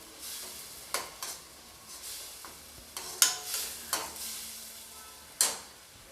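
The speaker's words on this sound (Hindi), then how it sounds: "मैं मसाला को भून जाने तक इसको पका लूँगी मैं" Spices for bhindi do pyaza roast in a pan over a faint sizzle while a spoon scrapes and taps through them, about eight sharp, irregular strokes, close and fairly quiet, with no speech.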